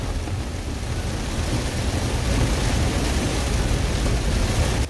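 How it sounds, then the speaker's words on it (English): Heavy rain pours down steadily during a storm in a valley, a dense, loud, unbroken roar with no talk. "There's so much rain coming down, it's incredible."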